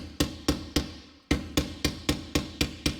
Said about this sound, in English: it seems like a hammer and screwdriver should work just fine